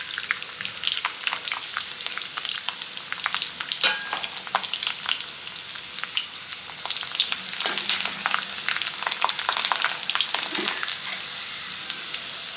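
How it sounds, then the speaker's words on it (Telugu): Ajwain seeds and garlic cloves fry in oil for ajwain rice, producing a dense, continuous crackle with scattered sharp pops and occasional stirring, close and without talk. "ఇది వేగిపోయింది కదా, ఇప్పుడు వెల్లుల్లి రెబ్బలు వేసుకోవాలి"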